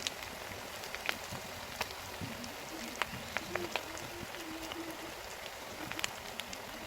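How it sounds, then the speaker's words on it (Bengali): Ginger fries in a pan with a soft, steady sizzle broken by scattered small pops and crackles, close and fairly quiet. "আদাটা ভালো করে ভেজে নিই।"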